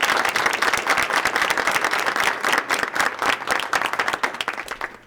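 An audience at a board of education meeting claps enthusiastically, dense overlapping handclaps sustained for several seconds, close and fairly loud, with no speech over it.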